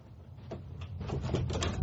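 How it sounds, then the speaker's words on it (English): A door closes in an indoor setting with a dull wooden knock and a soft scrape, close by and fairly loud, over a low background hum. "Close the door behind you."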